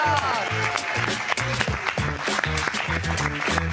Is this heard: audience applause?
yes